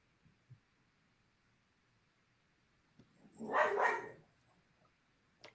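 A dog indoors barking at another dog upstairs, a single muffled burst of barking in the middle of an otherwise quiet room, fairly distant and faint.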